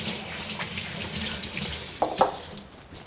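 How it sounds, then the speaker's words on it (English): A kitchen tap runs steadily as hands are rinsed under it, with faint splashes and a couple of brief knocks near the end. "I'm going to rinse my hands"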